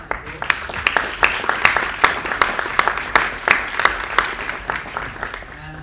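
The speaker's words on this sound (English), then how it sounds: "if we could give our panelists a last round of applause" Audience clapping steadily for a panel at the close of a public finance conference session, many hands with sharp overlapping claps in a lively, even rhythm that fades out at the end.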